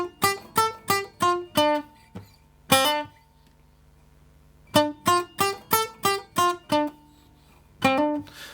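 An acoustic guitar plays a riff in first position as a hip hop guitar part, in two bursts of rapid plucked notes separated by a ringing chord and a pause, clear and close with no talking.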